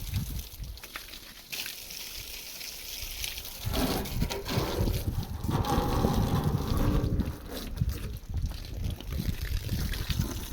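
Water sprays onto a 2018 tractor during washing, a hissing, splashing rush that swells and fades in uneven bursts, close by, with wind buffeting the microphone at times.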